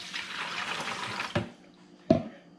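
Four cups of water poured into a bucket for a smoked mackerel dip brine, a steady splashing pour that runs for over a second, then two short sharp knocks.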